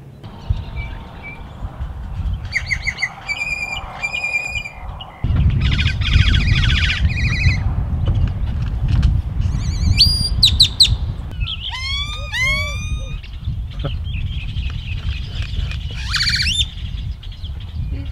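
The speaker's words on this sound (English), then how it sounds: "Birds are so weird." Several birds chirp and trill in bursts over steady low background rumble at a lakeside campground, with bright whistled calls and rising squawks coming close together.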